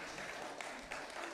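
A short burst of audience applause for a team at a home-buying debate event, a dense, even clatter of clapping hands, fairly soft and lasting just over a second.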